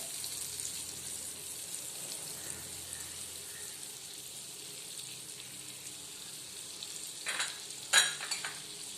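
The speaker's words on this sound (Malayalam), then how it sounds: "ബട്ടർ ഒന്ന് മെൽറ്റ് ആവട്ടെ." Butter melts in a pan for pav bhaji with a soft, steady sizzle and faint hiss, followed near the end by a few brief clatters from stirring.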